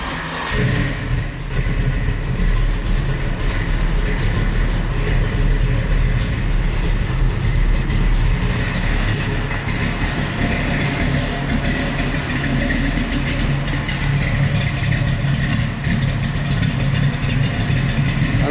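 A 1969 Camaro with a 383 stroker V8 and 4-speed fires up from cold and settles into a steady, rumbling idle, close and continuous throughout.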